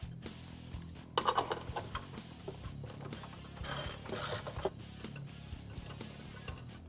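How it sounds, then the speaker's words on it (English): Secondary clutch on a Kawasaki Teryx KRX 1000 being spun by hand while a drive belt is installed: faint rubbing, scraping and ratchety mechanical noise in irregular bursts, close by and quiet. "Spin the secondary until the belt starts tightening up."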